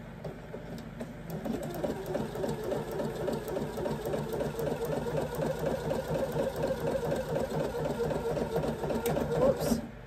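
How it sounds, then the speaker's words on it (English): A sewing machine stitching in the ditch on quilted hot pads, running in a steady rapid mechanical chatter at close range for the whole stretch and getting a little louder toward the end. "I'm just gonna do a little stitch in the ditch right here."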